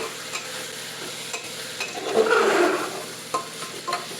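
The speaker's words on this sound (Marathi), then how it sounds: "हळद घालू, बिर्याणी मसाला घालूया, चांगलं परतून घेऊया." Turmeric and biryani masala being stirred and sautéed in a pan for masala rice, a soft sizzle with a swell of louder scraping and stirring midway, close and without talk.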